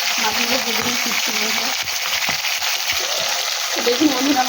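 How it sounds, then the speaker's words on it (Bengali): Tilapia fish frying in oil in a home kitchen, a steady close crackle and sizzle that runs throughout, with a voice talking intermittently over it. "মাছগুলো ভেজে নিয়ে ফিরছি।"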